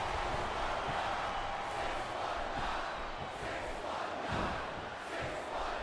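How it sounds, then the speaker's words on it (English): Arena crowd in WWE SmackDown vs. Raw 2008 wrestling video game chanting steadily, a dense roaring mass of voices with rhythmic swells throughout. "Wow, listen to that chant."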